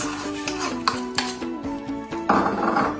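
Rice pours into a pot over barley and wheat for Nauryz kozhe, with clinks of a metal utensil against the pot and a grainy rushing patter as the rice spills in toward the end.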